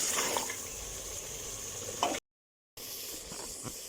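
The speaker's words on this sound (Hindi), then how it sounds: "अब इसको अच्छे से मैं भूनूंगी जब तक कि इसका पानी खुश्क ना हो जाए" Mutton sizzles and fries in tomato masala, a dense continuous crackling with faint stirring scrapes, broken by a short silent gap before the sizzle resumes.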